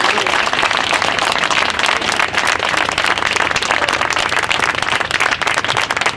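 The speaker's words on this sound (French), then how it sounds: "vous pouvez l'applaudir bien fort" A dense crowd gathered outside a courthouse gives sustained, loud applause for Grégory, a steady roar of many hands clapping with no pauses and faint voices mixed in underneath.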